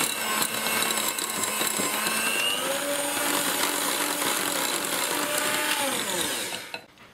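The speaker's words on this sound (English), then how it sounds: "Just need to beat the brown sugar and butter together until it's really fluffy." An electric mixer beats brown sugar and butter for a no-flour cookie dough slice, giving a steady whirring motor whine with a shifting pitch, then shutting off abruptly near the end.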